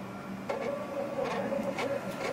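A Zebra barcode label printer prints a label with a low, steady mechanical whir and a few soft clicks. It is heard close up and at fairly low volume, with no voices.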